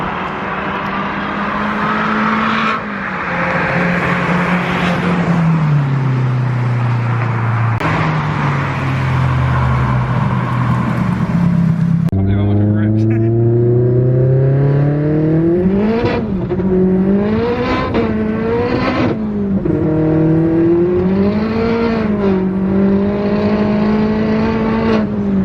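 A 360bhp VW Golf MK4 accelerates hard in repeated flybys, its engine note climbing through the gears with sweeping pitch rises and drops as it passes close and loud, with no talking.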